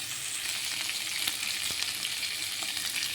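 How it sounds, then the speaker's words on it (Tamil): Soft, steady sizzle of ivy gourd sautéing with rock salt in a pan for Andhra-style pachadi, with faint stirring clicks over the continuous hiss and no talking. "நல்லா வதக்கி எடுத்துக்கலாம்"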